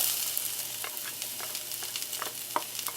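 Red onion sautés in a hot pan over medium-high heat, giving a bright continuous sizzle with quick scraping stirs, faint and close.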